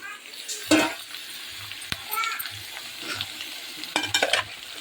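Mixed vegetables frying in hot oil in a pan, a low sizzle broken by a few short bursts of stirring and scraping, with faint voices in the background.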